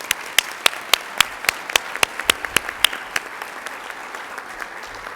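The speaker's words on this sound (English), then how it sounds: "and we can applaud." Applause at a Women's History Month celebration in Tampa, with a few prominent nearby clappers beating a fairly even rhythm over softer scattered clapping from the rest of the audience, steady for several seconds with no talk.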